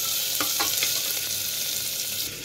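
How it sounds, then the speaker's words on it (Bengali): Onions fry in hot oil with a close, bright crackling sizzle, and a few stirring knocks sound near the start. The frying carries on steadily through the short stretch. "তেলের মধ্যে পেঁয়াজ দিয়ে দিয়েছি। দেখো পেঁয়াজটা আমি ফ্রাই করছি।"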